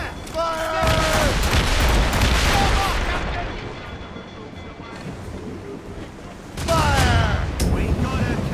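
Ship cannon fire from Assassin's Creed Rogue booms in heavy, rumbling volleys during a naval battle, loud at the start and returning near the end, with a voice calling out and chaotic battle noise throughout.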